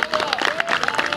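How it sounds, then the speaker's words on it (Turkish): A crowd at a dog show in Bursa applauds, a brief burst of dense clapping with some cheering voices mixed in. "Alkışlıyoruz."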